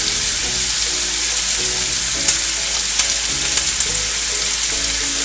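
Chopped onion and green chilies sizzle steadily in hot oil for a malai kofta gravy, with a dense, loud, continuous frying hiss and occasional scraping stirs, no voices.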